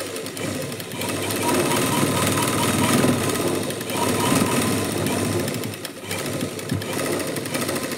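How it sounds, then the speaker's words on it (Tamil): A sewing machine stitching a quarter-inch seam on a lining blouse, its needle running in a rapid, loud, continuous mechanical chatter with brief slowdowns between runs. "இப்போது 1/4 இன்ச்சுக்கு ஒரு தையல் போட்டுருங்க இப்படி வச்சு"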